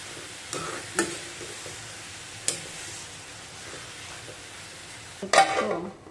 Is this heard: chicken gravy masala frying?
yes